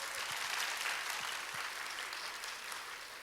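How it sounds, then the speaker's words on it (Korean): A church congregation applauds after a special song, a dense sustained wash of many hands clapping that stays even and slowly eases, fairly distant within the room. "일교회를 위해서 큰 박수 부탁드립니다."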